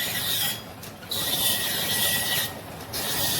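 A knife is pressed against a spinning grinding wheel, making a steady, hissing rasp of metal on stone that breaks off in short gaps between passes of the blade.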